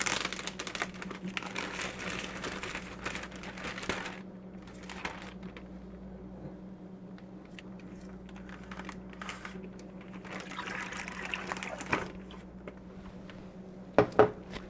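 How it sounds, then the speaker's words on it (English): Plastic freezer bag being opened and filled with poured broth in a kitchen, soft crinkling and rustling of plastic with scattered light taps and clicks, close and fairly quiet. "let me open this bag and pour the broth in."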